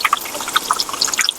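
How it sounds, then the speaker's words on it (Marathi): Water is poured into a green pani puri spice mixture, giving a brief bubbling, splashy gurgle at close range with no talking. "आता आपण गरजेनुसार आपण पाणी टाकून घेऊया"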